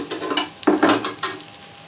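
Mixed vegetables including cabbage are stir-fried in a pan for macaroni, with a bright sizzle broken by several scraping stirs of a spoon, loud and close with no voices.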